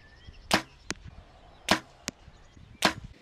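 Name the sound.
arrows shot from a bow hitting target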